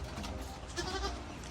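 Anglo Nubian goats bleat faintly at a distance, short wavering calls over a low rumble of background noise.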